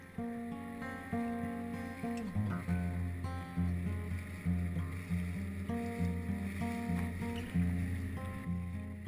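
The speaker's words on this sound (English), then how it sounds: "We jump in our dinghy and head into shore." A small dinghy motoring toward the beach at Dunk Island, with a steady engine and hull drone and water sloshing alongside, continuous and fairly close with no talking.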